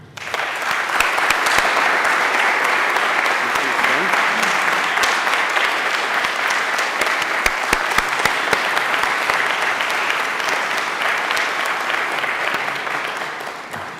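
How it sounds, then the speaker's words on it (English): Sustained applause from a large audience, steady and dense clapping throughout, with no talking over it. "Well-deserved applause."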